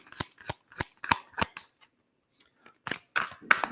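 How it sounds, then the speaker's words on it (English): Tarot cards shuffled by hand up close, a run of sharp, crisp riffling bursts in a steady rhythm, a short pause, then several more quick shuffles, with no talking. "If y'all hear noise, it's because I'm shuffling the cards."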